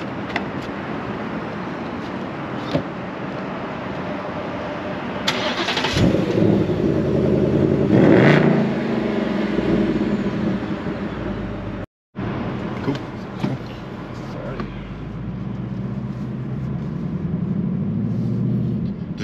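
A 2024 Ford Mustang RTR Spec 2 pulls away and drives, its engine rising in a couple of revving surges over a steady cabin drone, with occasional voices talking inside.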